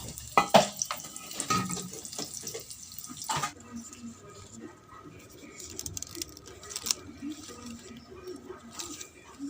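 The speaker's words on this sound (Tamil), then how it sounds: "இப்போ ரெண்டு வெள்ளை பூடை இந்த மாதிரி கட் பண்ணி இதில் சேர்த்து இதை கொஞ்சம் பொரிய விட வேணும்" Sliced garlic and fenugreek seeds fry in hot oil for an egg kurma, a soft continuous sizzle and patter with occasional clinks and stirring sounds, close by and without talk.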